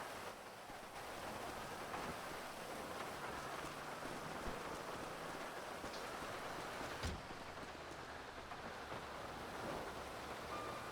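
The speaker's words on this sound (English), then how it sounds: "God, this rain is so fucking loud." Steady, loud rain pours down continuously, a dense hiss drumming on surfaces nearby, with one brief louder knock partway through and no voices.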